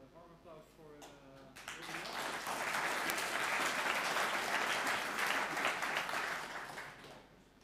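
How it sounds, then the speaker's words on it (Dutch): After a database talk at a Dutch tech conference, an audience breaks into warm applause that swells quickly, holds as a broad steady clatter of many hands, then fades, with a speaker's voice briefly before it starts. "Mag ik een warm applaus voor."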